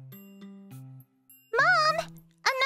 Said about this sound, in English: Another doorbell!